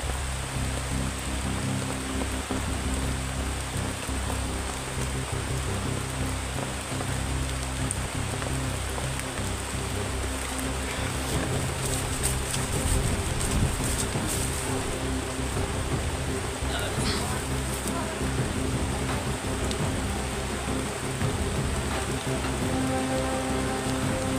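Steady rain falls outdoors, a dense, even patter on surfaces that continues throughout at a moderate level, with no clear voices over it.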